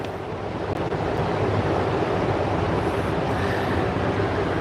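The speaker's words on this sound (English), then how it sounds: "as you can see here, just dump it in a bucket" Old yellow coolant pouring steadily into a bucket during a car coolant service, a continuous rushing, splashing wash that runs loud and unbroken from start to finish.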